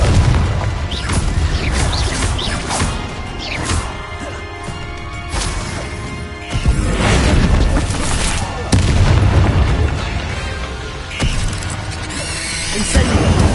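Repeated booming blasts of the Confringo fire spell in Hogwarts Legacy, heavy explosive bursts recurring every few seconds with crashing, crackling debris between them, loud and dense.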